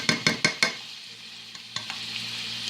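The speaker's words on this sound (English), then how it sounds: "So you just stir this up and cook it." Garlic Irish sausage frying in a pan gets stirred with a few quick scraping knocks at first, then a steady close sizzle carries on with a couple of lighter taps.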